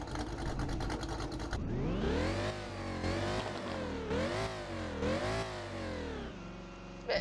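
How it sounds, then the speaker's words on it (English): Supercharged car engine in the Driving Empire video game revving repeatedly, with a steady supercharger whine riding over rising and falling engine pitch through several rev sweeps, loud and continuous with no talk. "For this car you can really hear the supercharger."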